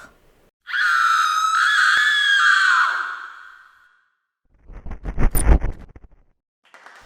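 A woman's drawn-out scream of terror rises sharply and holds for a few seconds, followed by a burst of ragged, shaky panting breaths, used as a sound effect in a horror story reading.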